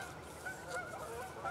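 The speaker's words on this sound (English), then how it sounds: "there go some geese." Geese honking in the distance, several repeated calls over a steady outdoor winter background.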